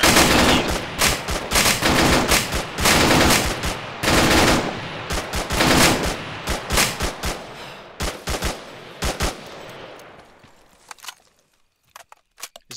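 Gunfire in ArmA 3 during a Navy SEAL co-op firefight, dense bursts of loud automatic fire and rapid single shots that thin out into scattered, spaced reports and fall silent near the end.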